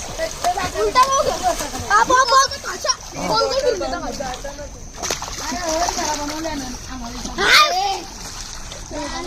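Water splashes repeatedly as kids jump in and swim, close and lively, with children talking and shouting throughout and a sharper splash near the end.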